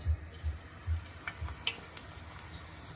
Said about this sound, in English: So I'm just allowing it to fry up